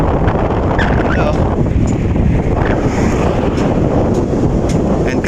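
Strong wind buffets the microphone at Mount Samat in Bataan, a continuous loud roaring rumble with no breaks and no voices.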